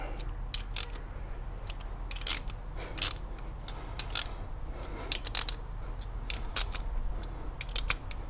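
During a crank position sensor replacement, a ratchet wrench gives the bolts a final tightening, with quick bursts of close metallic clicking separated by short pauses over a low steady hum and no talking.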